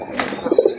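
Pigeons kept for sale coo in a few short, soft, throaty pulses close by near the end, with a faint higher chirp just before and no talking.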